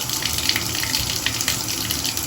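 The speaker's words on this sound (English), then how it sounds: "we'll actually just run a little bit of water" Steady rush of running water from a tap pouring into a tub drain, continuous and fairly loud, with a splashy hiss throughout.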